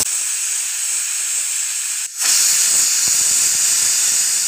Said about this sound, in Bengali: এবার প্রেশার কুকারের ঢাকনাটাকে বন্ধ করে গ্যাসে চাপিয়ে দেব। আমি 3টে সিটি মেরে নেব।